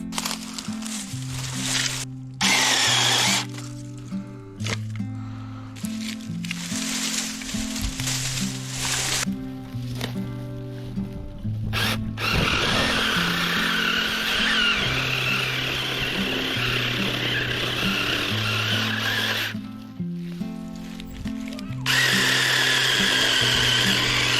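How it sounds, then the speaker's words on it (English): A mini chainsaw runs continuously, its engine revving up and down in bursts as it chews through small branches and brush, with brief idling dips between cuts. "while the chainsaw is making quick work of this small stuff"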